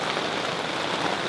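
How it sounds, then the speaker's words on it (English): Heavy rain pours down at night at a beach resort in Tonga during a storm, a steady dense hiss close by with no break and no voices. "It's been absolutely pissing down all night."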